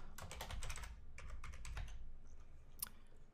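Keys tapped on a computer keyboard while entering a name and password, a quick run of soft clicks up close, then a pause and one final keystroke.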